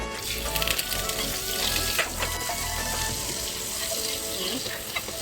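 Butter melting in a hot pan gives a loud, steady sizzle with a watery crackle that runs continuously close by, no voices over it.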